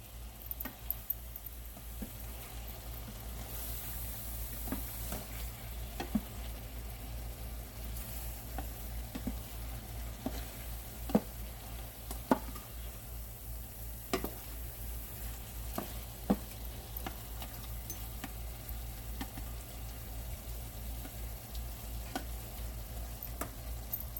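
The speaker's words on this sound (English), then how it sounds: "So keep that heat high so you won't get too much condensation in that pan. You want it to fry." Vegetables frying over high heat in a hot pan, a steady soft sizzle with light ticking crackles and occasional stirs throughout, with no talking.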